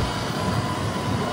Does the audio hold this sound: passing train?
yes